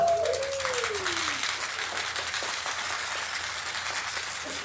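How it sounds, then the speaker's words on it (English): An audience at a financial planning seminar claps at moderate volume, a steady soft patter that holds for several seconds, with a brief whistling tone at the start. "Clap it up"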